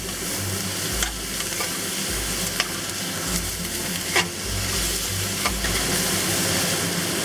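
Soy-braised chicken wings are tossed in a hot pan with dark soy, a constant loud sizzle broken by several sharp scraping clacks of the pan and utensil, with no speech.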